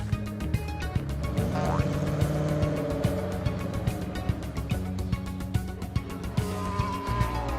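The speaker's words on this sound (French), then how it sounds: "Toutes les voitures ont franchi la ligne d'arrivée." Cartoon race cars in a French children's animated series zoom across the finish line, engine-like whooshes and revs mixed under a bouncy, rhythmic music track.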